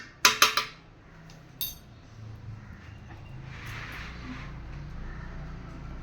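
A spoon clinking against a pot while ghee is added to khichuri: three quick, sharp metallic clinks close by, a fourth a moment later, then a steady low kitchen hum.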